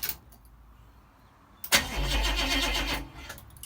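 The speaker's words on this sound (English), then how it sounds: "car turns over." A Holden HZ car engine cranks over and catches, with a sudden loud burst followed by about a second of steady churning and rumbling, then fading away.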